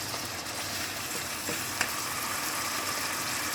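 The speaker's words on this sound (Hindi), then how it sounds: "लहसुन डाला है, थोड़ी देर लहसुन का कच्चापन दूर करने के लिए इसको ढक देंगे 1 मिनट के लिए" Garlic frying in a covered pan while making fish korma, a steady close sizzle that holds evenly throughout with a brief soft click midway.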